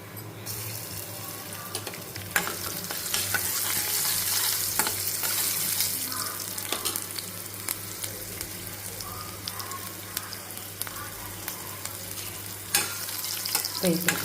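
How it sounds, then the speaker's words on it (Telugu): Tempering spices and crushed garlic frying in ghee for a toor dal chutney, a continuous close sizzle with stirring scrapes and crackles, no talking. "కొద్దిసేపు పోపు అంతా వేగాలి కొంచెం మంచిగా ఎర్రగా వేగిన తర్వాత పచ్చడి వేయాలన్నమాట"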